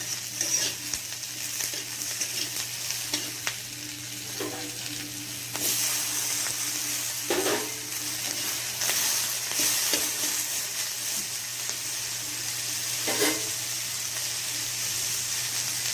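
Chopped tomatoes, added after minced garlic, sizzling in a pan on a medium gas flame while a utensil stirs them, giving steady frying hiss with occasional scraping bursts and no talking.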